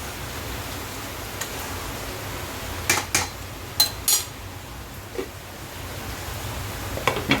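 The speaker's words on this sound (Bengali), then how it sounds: "মাঝে মাঝে আমি ঢাকনাটা খুলে একটু নাড়াচাড়া করে দিলাম" A pot lid lifts over ash gourd curry simmering on low heat with fish heads, followed by a few metallic clinks and scrapes of stirring above a soft, steady background hiss.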